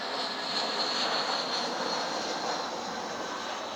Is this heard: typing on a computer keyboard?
no